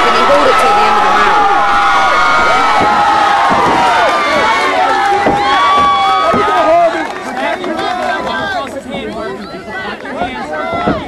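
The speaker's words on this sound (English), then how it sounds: "Listen to that crowd. They absolutely love Harvey and JJ." Loud crowd at an amateur MMA event in Haysi roars and cheers continuously right after a submission finish, a dense wall of shouting and whistles that thins slightly toward the end.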